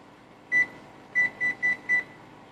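A stove timer beeps as it is set for a salsa recipe: five short, clear, high beeps, one alone then four in quick succession, in a quiet kitchen.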